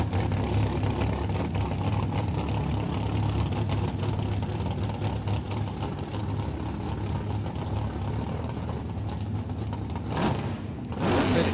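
Dragsters at a drag racing championship meet, among them a front-engine dragster, roar with a loud, sustained engine drone. The rumble stays steady for several seconds before sharper bursts near the end.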